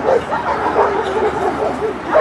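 Medium-sized female dog at a dog show giving short yips and whimpering barks, close and fairly steady across the moment, with a judge's voice talking in the background.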